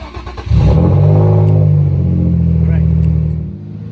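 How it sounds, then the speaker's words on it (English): A car engine is started after an ECU reset. It catches with a brief rev and then settles into a steady, loud idle hum, close by, before fading slightly near the end. "start up the car and let it idle for another 10 minutes."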